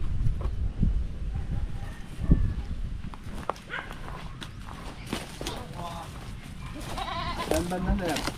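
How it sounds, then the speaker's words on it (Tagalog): Goats bleat on a farm in Porac, Pampanga, the calls rising intermittently over footsteps, hoof clatter and rustling, while people talk nearby. "Sir, may mga alaga pa pong kambing dito."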